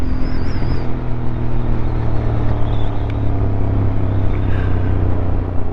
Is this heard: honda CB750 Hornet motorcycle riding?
yes